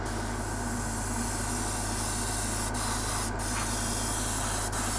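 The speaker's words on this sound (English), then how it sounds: "I'm airbrushing a flat layer of black. I'm running the airbrush at about 15 psi." Airbrush spraying a flat layer of black paint at about 15 psi onto scenery bulkheads, a steady close hiss throughout with a few brief sharper puffs, no talking.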